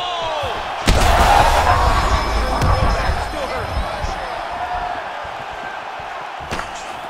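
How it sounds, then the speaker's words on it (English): Crowd noise in the EA Sports UFC 5 video game swells and murmurs after a sharp impact thud, with a second slam near the end, the audience reacting loudly then settling. "You hear the crowd react every time they come together"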